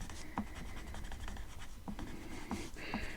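Colored pencil scratches steadily across paper in close, soft strokes, with a few sharper taps as the pencil is lifted and set down, and no talk.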